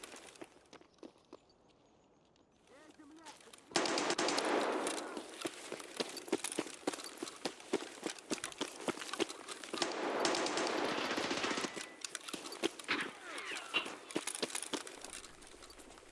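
Automatic gunfire from a bolt action rifle fight in a video game, loud dense bursts of rapid shots from about four seconds on, over scattered footstep-like clicks, with a quieter gap near twelve seconds.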